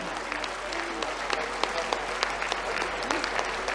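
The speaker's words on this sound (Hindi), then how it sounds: "पूरे हाथ उठा के तालियां बजाएं" A crowd at a night cultural program during a cradle festival claps with raised hands, a steady bed of applause with sharper individual claps standing out through the few seconds.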